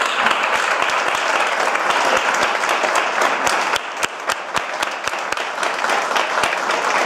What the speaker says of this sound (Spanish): Y el último aplauso quiero que sea de nosotros también para vosotros.